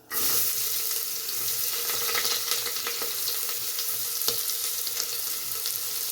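Chopped onions hit hot oil, about six to seven spoonfuls, already crackling with mustard seeds. A sudden loud sizzle bursts out, then settles into a steady, close frying hiss.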